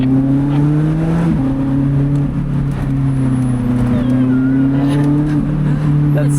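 A Lotus Elise engine pulls hard in second gear on an Austrian road, a loud, steady close-up drone with a slowly rising and dipping tone, heard from inside the car.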